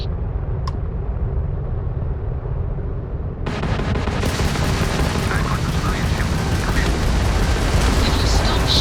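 An enemy ship opens fire in Starfield, a sudden loud burst of rapid, dense weapon fire and roaring blasts that starts after a few seconds of low rumble and keeps going to the end.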